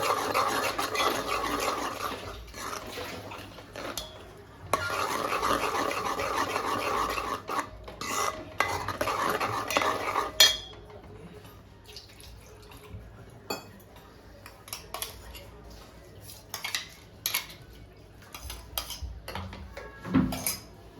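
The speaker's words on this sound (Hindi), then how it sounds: "तो अभी हम काजू और दही का पेस्ट ऐड कर रहे हैं। गैस की फ्लेम मैंने स्लो कर दी हुई है। अच्छे से हमें इसे मिक्स कर लेना है।" A spoon stirs a cashew and yogurt paste in a pan over a low gas flame, making a steady scraping and rasping that later breaks into scattered clinks and scrapes.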